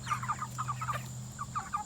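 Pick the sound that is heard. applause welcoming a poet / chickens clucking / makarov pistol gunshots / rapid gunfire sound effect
chickens clucking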